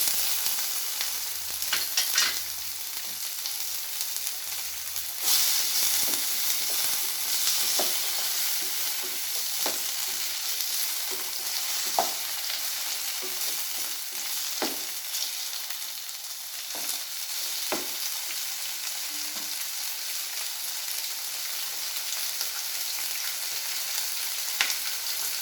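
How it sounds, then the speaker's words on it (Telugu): Tomatoes and other ingredients frying in a pan give off a continuous bright hiss, with occasional soft scraping knocks from stirring, close up and steady with no voices. "నెక్స్ట్ టమాటాలు కూడా వేస్తున్నాను."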